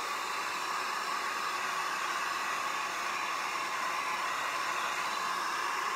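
A hair dryer blowing on a wet painting in an artist's studio, a loud, constant whooshing roar held evenly and alone throughout.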